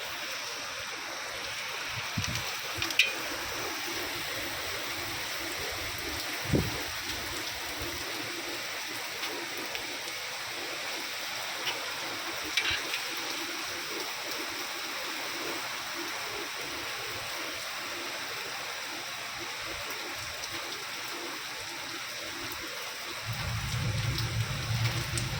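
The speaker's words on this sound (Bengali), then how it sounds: "তারপরে কি জোরে জোরে বৃষ্টি পড়ার আওয়াজ।" Heavy morning rain falling steadily outdoors near a pond, a dense continuous hiss with scattered louder drops and knocks throughout, ending in a slightly fuller rumble.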